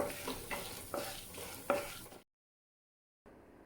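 Lentils for idli podi are dry-roasted in a pan, with a scratchy rustle and several close stirring scrapes, then a second of silence before a quieter stretch resumes.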